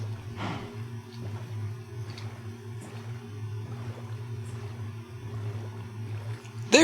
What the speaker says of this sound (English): Just a man rowing a boat with a cow in it behind him.